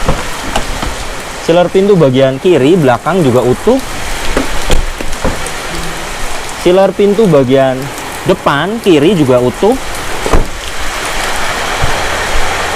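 Steady rain falls on a 2007 Daihatsu Xenia Li during an outdoor inspection, a constant broadband wash running through the whole stretch under continuous talk from a man.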